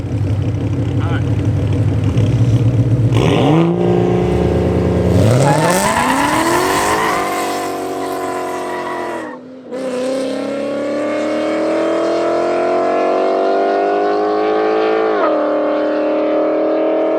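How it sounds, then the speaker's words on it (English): A car engine roars close during a street grudge race between a Misfire 3 and an S550 Mustang, revving up through rising gear pulls, dipping briefly, then droning loud again, with voices talking over it. "It's a car coming."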